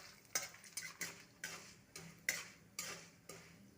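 Chana dal and urad dal fry over low heat with mustard seeds and dried red chilli in a pan, with a soft sizzle and repeated scraping stirs in an uneven rhythm, close and fairly quiet.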